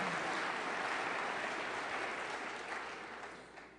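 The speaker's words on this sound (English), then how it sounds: "That is worthy of applause." An audience at a State of the County address breaks into sustained applause, a dense steady clapping that holds strongly, then gradually thins and fades toward the end, with no voices over it.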